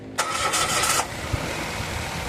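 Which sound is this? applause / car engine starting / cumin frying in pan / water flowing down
car engine starting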